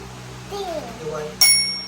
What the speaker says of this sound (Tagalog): show mommy the bell.